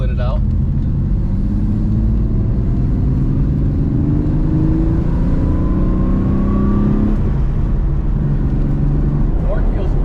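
A Porsche 964 RS America with its rear-mounted engine hums steadily while driving, a constant mid-pitched engine drone with a gradual rising pull as it accelerates, heard from inside the car over continuous road noise.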